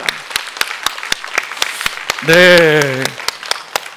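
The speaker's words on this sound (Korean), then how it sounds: "자, 한번 박수로 한번 마무리하겠습니다." Church members clapping at the close of a sermon, a sparse run of individual sharp claps spread across the stretch, with a short spoken word from a nearby voice in the middle.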